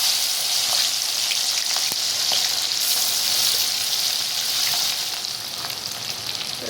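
Chopped garlic and green chilli fry in hot oil with split dried red chillies for noil achar pickle, making a loud, steady, close sizzle that holds throughout with faint crackles and stirring.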